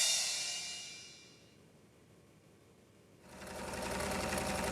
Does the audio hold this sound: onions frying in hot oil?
no